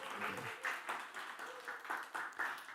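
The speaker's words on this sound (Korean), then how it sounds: "우리 격려의 박수" A small church congregation claps in encouragement for a child, a close, rhythmic burst of hand claps repeating at a brisk pace.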